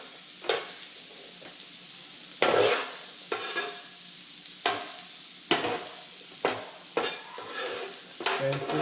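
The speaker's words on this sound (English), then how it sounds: "We're gonna mix it all up in with the butter." Caramelized onions are stirred into butter on a pancake griddle, giving repeated scraping spatula strokes over a steady close sizzle, with no talking.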